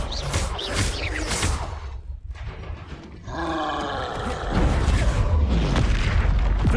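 Confringo fire spell blasts from the Hogwarts Legacy video game, heavy booming explosions with roaring bursts that swell and repeat across the stretch, loud and dense with layered game effects.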